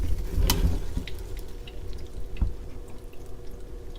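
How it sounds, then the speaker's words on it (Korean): Water is squeezed from salted old cucumber pressed down in a spin-dryer squeezer, giving close, brief drips and small splashes with a few soft squelches over a few seconds. "이제 절여진 노각의 물기를 짜볼게요. 노각을 짤순이에 담아 꼭 눌러주세요."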